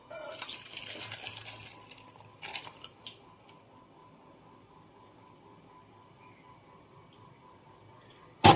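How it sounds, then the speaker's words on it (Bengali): Boiled lentil dal poured out of a cooking pot: a soft, wet slosh and gush for the first couple of seconds, then near silence with a faint low hum and a sharp clunk at the very end. "তো ডালটা আমি ঢেলে নেবো।"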